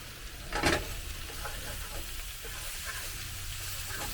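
Turkey stir fry sizzles in butter and olive oil in a pan, a steady crackle with one louder burst of spatter near the start, then an even hiss throughout.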